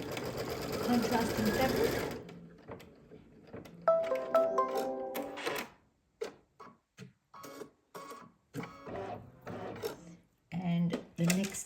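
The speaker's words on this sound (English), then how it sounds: "back to the machine we go. Okay, so we're doing the tack down" An embroidery machine stitches a tack-down on fabric for a lip balm holder, whirring in a steady burst and then in short stop-start runs, with a person talking briefly at the start.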